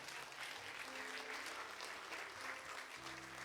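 Church congregation applauding in acclaim of the Lord, a steady dense wash of clapping from many hands filling the room, continuous and fairly loud throughout.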